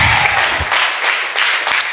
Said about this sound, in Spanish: dele un aplauso ahí al Señor, por favor